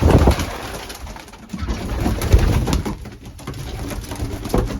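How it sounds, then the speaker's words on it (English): Young racing pigeons in a loft coo in a dense, continuous chorus of soft throaty calls close by, with no voices over them. "And then here we are with the young bird."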